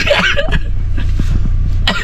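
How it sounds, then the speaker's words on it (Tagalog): A person coughs a few times in quick, harsh bursts close to the microphone, with faint background noise. "Inuubo-ubo ako."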